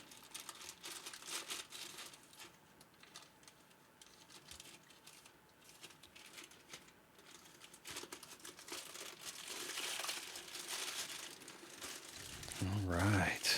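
Close, crinkly rustling of plastic packaging cut open with scissors, with small snips and crackles, quiet at first and growing louder toward the end, while unboxing a Behringer K-2 synthesizer.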